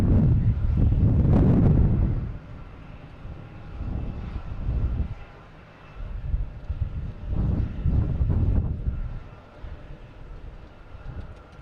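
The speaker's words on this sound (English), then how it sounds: "coming in is Air Canada from Toronto, E175" An Air Canada Embraer E175 arriving from Toronto at Boston Logan Airport: a loud, wind-buffeted roar swells in the first two seconds, then eases into a steadier, lower jet rumble that rises and falls.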